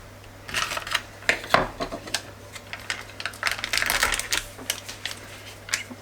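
A plastic tub of ricotta is pried open with a run of close, crackling clicks and snaps that bunch together, then trail off into scattered ticks.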